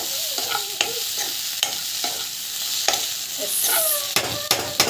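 Spiced mixture sautéing in a pan, with a steady sizzle under repeated sharp spoon scrapes and stirring knocks at an uneven rhythm, close and fairly loud.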